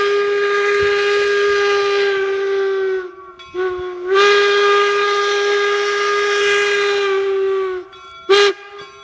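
A loud steam train whistle blows in long sustained blasts as the train pulls in at Promontory Point, Utah, separated by short gaps, ending with a brief final toot.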